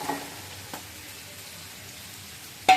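Chicken pieces hitting a hot pan of spices, a quiet steady fry and sizzle with a faint soft clatter near the start and a louder stir or clink at the end, with no voices.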